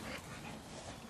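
Puppies, including a chocolate one, give a faint, brief whimper at home, a soft high whine lasting about a second with no talk over it.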